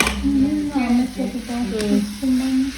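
Sliced onions fry in a pan for a bread and chicken dish, a soft steady sizzle running beneath a voice that hums or speaks over it throughout.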